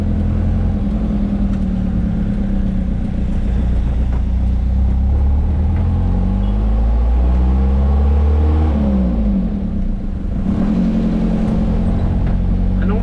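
An Isuzu 4JJ2 diesel engine runs with a steady, loud low rumble that holds throughout, its pitch sweeping up and down as the revs change.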